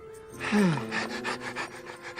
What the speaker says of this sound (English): I hope that was just panting.